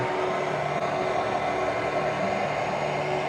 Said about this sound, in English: Alright, a quick blow dry here.